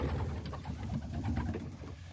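Homing pigeons, white and red birds in a loft, cooing in soft repeated low throaty calls that overlap continuously at close range, with no talk.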